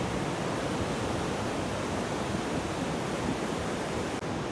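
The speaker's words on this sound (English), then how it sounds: "The beach waves up close again." Ocean waves breaking on a beach along the coastal highway, heard as a continuous broad, steady surf roar with no distinct individual breakers, moderately quiet and uninterrupted by voices.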